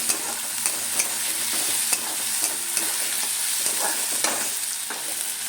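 Ginger garlic paste frying in a pan, with a steady sizzle and repeated spatula scrapes and taps as it is stirred, close and loud throughout.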